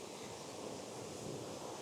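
Waterfall in woodland, a steady broadband rush of falling water heard continuously and fairly close, with no voices over it.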